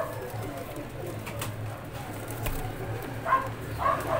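Rampuri pigeons, four pairs kept in Lahore, coo softly and repeatedly close by, over a low, steady background hum.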